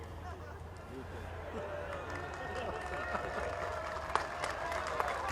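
An audience clapping steadily at a political rally, blended with crowd murmur, heard from a moderate distance with a couple of sharper claps standing out.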